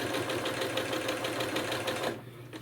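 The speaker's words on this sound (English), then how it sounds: "And I'm sewing a 1/4 inch seam." A sewing machine stitches a quarter-inch seam on a quilted fabric bottle tote, whirring in a fast, even mechanical rhythm close by, then stopping abruptly.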